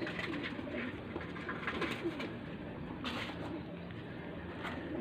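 A thin, hungry racing pigeon coos softly and repeatedly at close range, low throaty calls over a quiet background.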